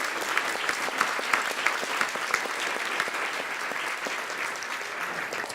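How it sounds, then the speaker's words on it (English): Guests at a veterinary association Hall of Fame awards ceremony give a steady round of applause, many hands clapping evenly and continuously at moderate loudness throughout. "let's give a round of applause because we couldn't be here without their support"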